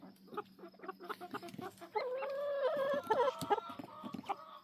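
A chicken clucks repeatedly up close, with a drawn-out, wavering squawk in the middle that sounds almost like a rooster's attempt at crowing.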